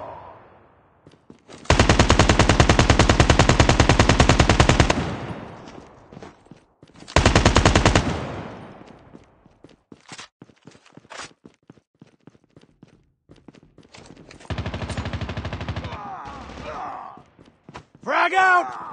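A sentry gun in Call of Duty Mobile fires long, loud automatic bursts, separated by gaps filled with footsteps and scattered single shots, with a voice speaking near the end.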